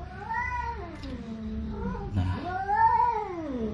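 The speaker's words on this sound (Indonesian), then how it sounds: "ada rombongan kucing nih bro." Several cats meow and yowl in long, drawn-out wails, close and fairly loud, overlapping one another.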